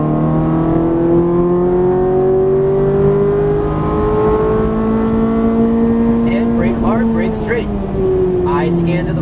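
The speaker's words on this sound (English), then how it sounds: "start to squeeze back into the throttle, and unwind to the left." Ferrari F430 engine accelerating on a racetrack, a loud, steady rising exhaust note with layered harmonics sustained for about nine seconds, with a brief gear-related wavering near the end and a driving instructor's voice over it.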